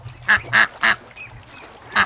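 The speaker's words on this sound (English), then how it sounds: "The ducks they're lifting up the wire to get into my garden." Ducks in a garden near a swamp quack in a quick run of three loud, close calls, then softer chatter, then one more sharp quack, with no talking.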